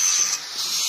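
A sander runs on a trailer project built for a Scania 113, producing a brief, close burst of harsh, broadband grinding hiss that dips slightly midway, with no voices.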